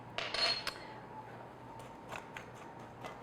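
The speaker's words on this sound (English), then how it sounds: "So I'm just whisking this." A whisk stirs dry baking ingredients with ground cinnamon and a pinch of salt in a bowl for an apple crisp topping, a quiet scraping and clinking at the start, then soft scattered taps.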